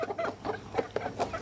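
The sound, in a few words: chickens clucking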